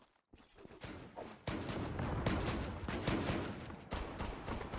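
Rapid gunfire in the online shooter Zula, with repeated loud blasts from a pump shotgun such as the M3 mixed with dense firing, sounding close and continuous with no pauses.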